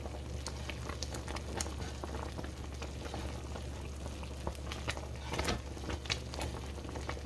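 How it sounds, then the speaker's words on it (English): A thick pot of peach jam at a rolling boil, bubbling and popping steadily up close with dense, continuous sputtering and no voices. "See how I'm stirring this and it's still boiling? This is a rolling boil."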